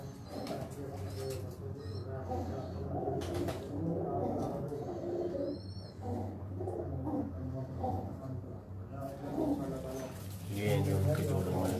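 Pigeons kept in breeding cages coo steadily in low, rolling phrases throughout, with someone speaking over them.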